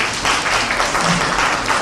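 Applause for a presenting group at an academic session, a brief, dense burst of clapping from a room audience lasting under two seconds.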